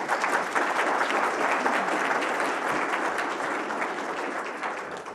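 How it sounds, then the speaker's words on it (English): An audience claps after a lecture, sustained dense applause from many hands at a steady level that tapers slightly toward the end. "Let's give them a round of applause first."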